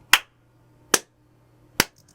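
Hands clapping indoors: three sharp, crisp claps, evenly spaced about three quarters of a second apart, close and alone in a quiet room.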